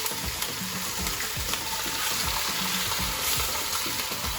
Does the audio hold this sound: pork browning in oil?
yes